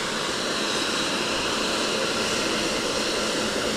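Loud, steady roar of a plane at an airport where a bishop's body is arriving, a broad continuous wash of engine noise holding level throughout with no break.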